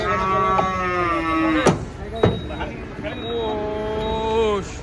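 Giant sacrificial cattle coming down off a truck, with a long, drawn-out low moo heard twice over the clatter and a bang or two of the unloading, while people chatter close by.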